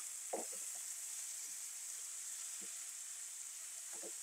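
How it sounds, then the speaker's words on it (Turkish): Spinach sautéing in a pan, a soft continuous sizzle with a few faint scrapes of stirring at scattered moments. "Birkaç dakika ıspanaklarım da sünene kadar hep beraber kavuracağım derim."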